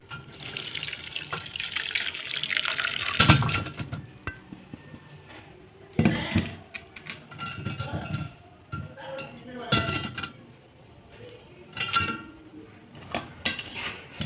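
Water pours and splashes into a sink as a pot is drained, with metal clinks and clatters of cookware between pours.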